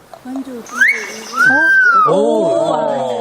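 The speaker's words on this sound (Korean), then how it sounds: "바로 노래하는 새 코카코입니다." A kokako, a New Zealand forest songbird, sings a varied run of clear, sliding whistles and lower, rounded notes, rising and falling in pitch, close and fairly loud.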